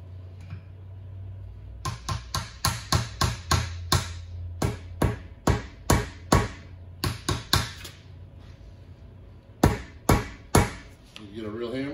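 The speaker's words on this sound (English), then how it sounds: "Need a hammer." Sharp metallic hammer strikes on a seal driver ring out in quick repeated bursts during front brake repair on a 1978 Mack Cruiseliner, pausing briefly between runs of blows, close and clear.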